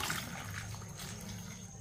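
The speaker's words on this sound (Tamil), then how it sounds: "இதில் நல்லா தண்ணி ஊற்றிக்கிடுவோம்" Water poured steadily into a pot of chopped vegetables and onion pieces for a weight-loss soup, a continuous close trickling and splashing that runs evenly throughout without voices.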